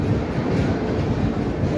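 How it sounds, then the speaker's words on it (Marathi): A long-distance passenger train on a trip toward Kedarnath pulls into a station platform, its low steady rumble and rolling wheel noise close and continuous, with no voices over it. "आता आपली ट्रेन आली"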